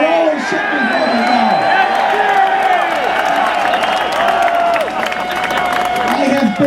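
A huge rally crowd roars with cheering, whoops and applause, a loud, dense wall of noise that holds steady throughout, with voices shouting inside it.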